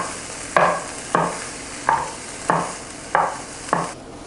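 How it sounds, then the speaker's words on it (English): Carrots and onions frying in oil in a pan, stirred in six regular scraping strokes about every 0.6 seconds over a low sizzle, close and clear with no talking. "Throw in the carrots and the onions and cook for a few minutes."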